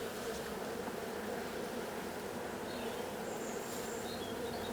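Dense, steady hum of a honeybee colony buzzing around an open hive as the queen is released, a continuous close drone with faint higher whines of individual bees passing by.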